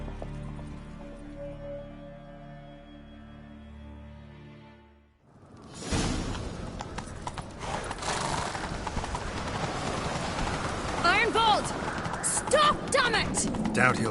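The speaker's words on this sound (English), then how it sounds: "Grab a horse, we'll chase him down." Several horses gallop in a video game chase, their hooves clip-clopping rapidly and loudly amid whooshing action sounds after a quieter opening.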